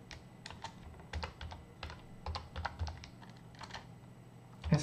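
Keys tapped on a computer keyboard while entering a document header, a run of quick, close clicks with uneven rhythm and soft background hum, no talking.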